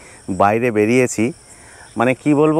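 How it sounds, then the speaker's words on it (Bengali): Crickets chirp steadily at night across open farm fields in the Sundarbans, a thin high, continuous trill beneath a nearby person talking. "ঝিঝি পোকা ডাকছে"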